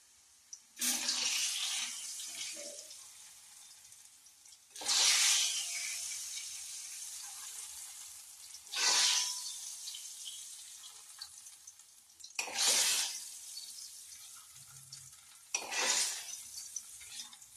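Mustard seed tempering poured into a Kerala-style pumpkin curry, giving about five loud, sharp hissing bursts that swell and fade over several seconds, with quieter gaps between them.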